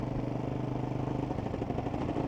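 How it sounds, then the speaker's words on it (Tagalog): A motorcycle engine strains under throttle on a steep scenic highway, a muffled, steady mid-pitched drone that stays at low volume throughout. "Pag pinipiga ko yung gas, ayaw humila."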